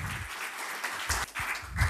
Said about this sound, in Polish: Proszę was o brawa dla naszych gości